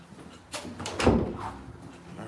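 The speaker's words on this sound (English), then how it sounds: "Close that door really quick, out the way" A door swung shut outside a house during an open house in Frisco, Texas, with a brief sliding movement and then one dull, fairly close thud.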